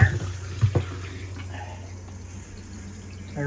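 Hot water running from a motorhome shower during winterizing, a steady hiss of flowing water close by, with a few knocks and handling bumps at the start before the flow settles into a continuous stream.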